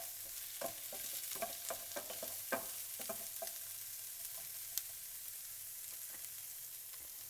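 Onions and green peppers frying over low heat in a pan, a steady soft sizzle with scattered pops and crackles, close and quiet, no voices.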